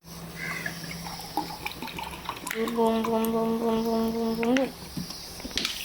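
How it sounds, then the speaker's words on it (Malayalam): Cold water from the fridge pours into a glass or jug, a rising gurgling pour with a climbing tone as the vessel fills, then stopping, with faint household noise around it. "നമുക്ക് തണുത്ത വെള്ളം ഒഴിക്കാം"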